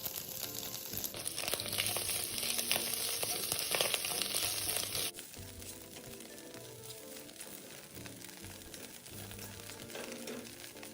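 Shiitake mushrooms stir-frying with dried shrimp in a wok give a quiet, continuous sizzle and crackle with light scraping and stirring. The sizzle is busier at first, then settles lower, with no talk.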